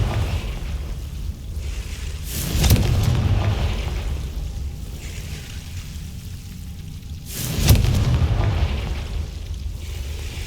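A Confringo blasting spell goes off twice in Hogwarts Legacy, each time as a loud, broad booming blast that swells and then fades into a rumbling tail over steady background ambience.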